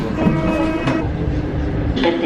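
A Paris metro train rumbles and squeals nearby, with rail screeches and clattering around a crowded platform and brief voices mixed in.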